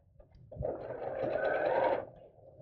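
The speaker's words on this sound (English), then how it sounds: "then we'll sew straight across" A sewing machine stitches straight across the base seam of a fabric purse organiser craft bag, one steady motor whir of about a second and a half, close and clear with no talk.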